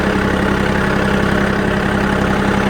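A small John Deere tractor engine idles steadily nearby, a continuous low rumble with a mid-pitched hum, holding even loudness throughout with no talking.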